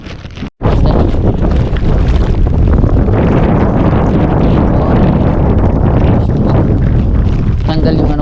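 Strong wind roars constantly and loudly across the microphone on a boat at sea while casting and trolling for wahoo, with a brief dropout near the start and a heavy, unbroken rush throughout.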